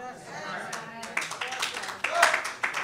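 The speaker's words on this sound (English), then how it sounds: "Now everybody should be clapping." An audience claps in scattered bursts that swell toward the end, with a voice speaking over the applause during a sermon-style talk on relationships.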